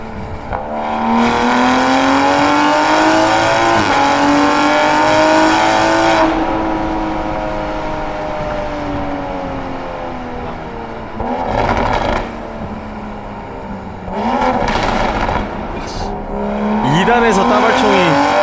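A tuned Toyota Supra with an inline six-cylinder 3000cc single-turbo engine and aftermarket exhaust, driven hard through a tunnel: loud rising engine wail through the gears, echoing off the walls, with shifts and crackling pops between pulls.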